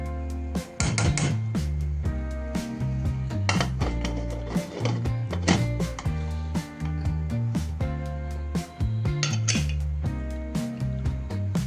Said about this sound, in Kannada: ಕುಕ್ಕರ್ ಮುಚ್ಚಳನ ಮುಚ್ಚಬೇಕು.